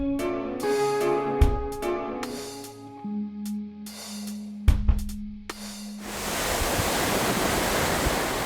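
Sea waves washing onto the Sea of Japan coast at Nakhodka, a steady broad roar of surf that swells in loudly after several seconds of other sound and then holds alone.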